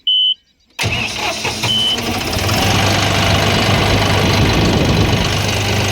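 A four-wheel tractor's diesel engine starts up after a brief beep and settles into a loud, steady chugging that runs continuously to the end.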